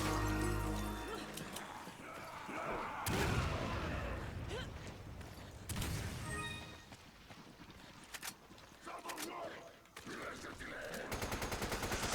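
Bursts of gunfire ring out in Resident Evil 5 Mercenaries on the Village map, with short volleys separated by game ambience and other effects, moderately loud.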